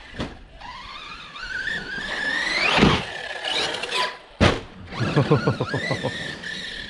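A Corally Kronos 4S buggy on an 11-tooth pinion driving freestyle, its electric motor whining up and down through revs with tyre squeals, a sharp burst, then fast rhythmic pulsing as it spins and accelerates nearby.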